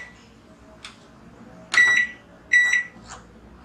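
A microwave oven cooking a vegetable curry gives two short, loud electronic beeps about a second apart, with a fainter blip just before them and another just after, over a quiet background.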